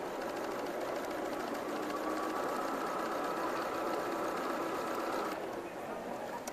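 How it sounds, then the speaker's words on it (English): A sewing machine stitches down quilt fabric at a quilting festival demo, running steadily with a fast even whir for most of the stretch before easing off near the end. "So just stitching that down."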